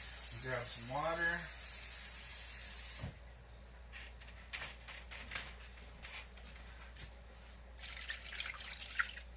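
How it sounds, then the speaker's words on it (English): Water from a cup pours into a pan of hamburger, a brief gurgling splash early on, followed by faint drips, sizzling hiss and small kitchen clatter. "Pour that water on in there."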